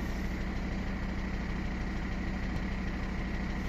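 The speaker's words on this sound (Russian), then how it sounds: "Так детонирует машина." Mercedes W211 engine idling with detonation knock: a steady, continuous low engine rumble with an even idle texture throughout, close and without voices.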